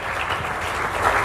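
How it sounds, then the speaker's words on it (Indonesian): Enthusiastic applause from a church congregation during a sermon, steady clapping filling the whole moment with no voices on top. "Kasih tepuk tangan kepada Tuhan."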